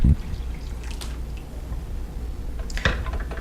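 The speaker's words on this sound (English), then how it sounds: "pour the hot water into the gaiwan" Hot water, no hotter than 170 degrees, is poured into a gaiwan, a soft trickling stream with a few brief splashes and drips at the start and near the end, fairly quiet and close.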